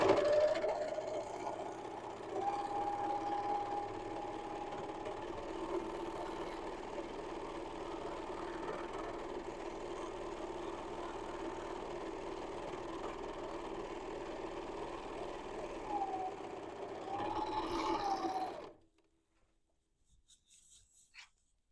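A serger runs continuously at a steady whirring pace while finishing the top edge of a dress bodice, then stops abruptly, leaving near silence.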